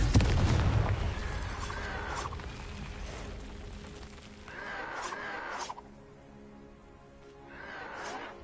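Confringo fire spell explosions in the Hogwarts Legacy video game: a heavy blast bursts at the start, then further crackling impacts and whooshes come in repeated waves at a moderate distance, with no talking.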